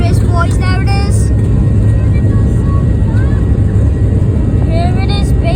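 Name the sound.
Boeing 737-800 MAX jet engines roaring on takeoff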